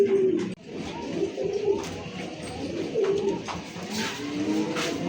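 Coca pigeons, a domestic fancy breed, coo in soft repeated low calls close by, with a few louder coos, light rustling and faint background noise between them.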